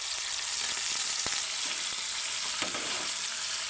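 Paneer frying in hot oil for a ridge gourd paneer fry: a dense, loud, continuous sizzle up close with a few faint taps from the pan.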